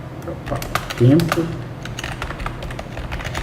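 Keystrokes on a computer keyboard while working in Excel, a light scatter of clicks through the clip with a brief louder burst near the middle, heard close and under a person talking.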